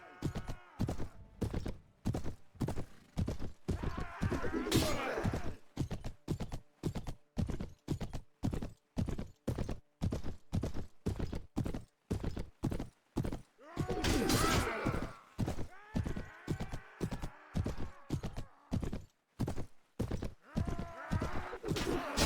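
Horse hooves clip-clop in a steady, even trot throughout a Mount & Blade: A Clash of Kings medieval battle game, with an injured horse unable to gallop; occasional clashing impacts and a brief whinny-like burst rise over the rhythmic hoofbeats.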